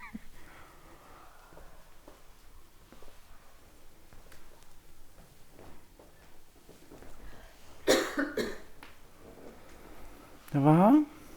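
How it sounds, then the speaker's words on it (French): After a guided relaxation session, a few people cough in a quiet room, two or three short bursts standing out near the end, with faint background stirring before them. "Toussez si vous le sentez."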